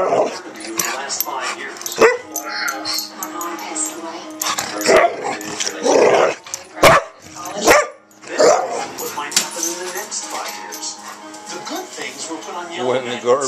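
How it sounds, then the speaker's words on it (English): A small dog barks and yips repeatedly, close and loud, in sharp irregular bursts mixed with whimpers, while a person talks to it in between. "Oh, that's my little dog."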